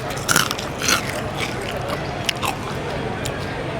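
Biting into crispy Cantonese roast pork skin at a Singapore roast meat stall: a few sharp, close crunches at irregular intervals over a low background murmur.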